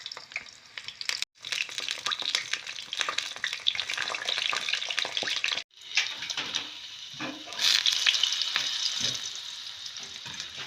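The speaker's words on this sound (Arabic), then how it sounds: "بعد ما قطعت الخضرة فراح ابدي اقليهم" Chopped vegetables, starting with eggplant, frying in hot oil: a continuous close crackling sizzle with brief breaks, with stirring and rustling of the pieces and no talking.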